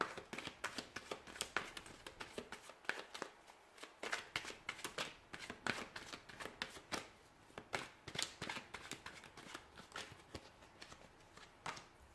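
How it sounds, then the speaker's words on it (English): Tarot cards are shuffled by hand in a quiet room, a rapid series of crisp riffling snaps and soft flicks, close and fairly faint, with brief pauses between bursts. "we'll go ahead and give the cards a shuffle here"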